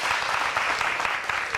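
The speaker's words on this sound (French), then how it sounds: "Il faut vous applaudir, s'il vous plaît." An audience applauds warmly throughout, a dense, even wash of many hands clapping close and loud with no pauses.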